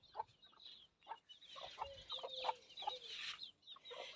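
A rooster clucks in a garden, with repeated short, bright clucks and calls coming close and fairly loud in an irregular rhythm and no talking over them.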